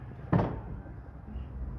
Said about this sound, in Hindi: दरवाजा मैंने खोल लिया है